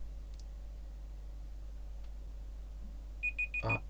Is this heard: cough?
no